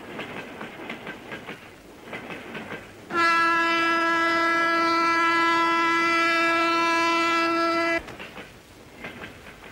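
Passenger train running on rails, a rhythmic clickety-clack of wheels broken by a loud sustained horn blast lasting several seconds, then clacking again.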